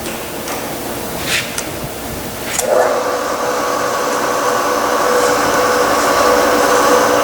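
A vertical milling machine's spindle runs in low range, a loud steady mechanical whir and hum with a few clunks early on as it settles into a constant drone.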